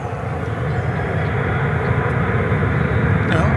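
A steady, loud jet roar from an American Airlines plane passing at DFW Airport, a broad sustained rumble holding evenly throughout.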